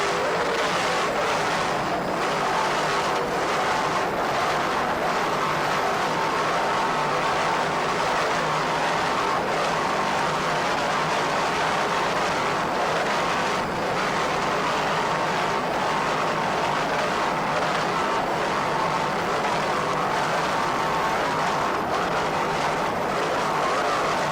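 Twin 625-horsepower professional marine inboard engines on racing powerboats roar loud and continuous at the Key West world championship race, a dense, unbroken engine drone with slight surges throughout.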